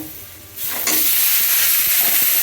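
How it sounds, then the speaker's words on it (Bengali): Onion and garlic with salt, turmeric and chilli fry in a pan. A soft hiss jumps to a loud, steady sizzle within the first second and holds up close. "ভালো করে ভেজে নিতে হবে পেঁয়াজটা, না হলে কিন্তু কাঁচা গন্ধ থেকে যাবে।"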